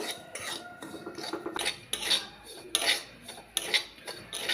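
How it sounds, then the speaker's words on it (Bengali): Semolina roasting in ghee while being stirred, with repeated scraping and rasping strokes of a utensil against the pan at an irregular rhythm, close up and fairly loud, no voices. "দিয়ে এই সুজিটাকে একদম লাল লাল করে ভেজে নেব।"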